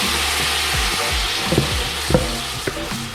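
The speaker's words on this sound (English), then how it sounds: "Mum's about to add the pork belly into the pot" Pork belly hits a hot pot for a Vietnamese pork stew and sizzles loudly and steadily, with a few clanks of stirring or tossing near the end.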